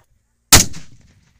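An aloo bomb firecracker explodes on bricks with one sharp, loud bang that decays quickly into a short rumbling tail, with near silence before it.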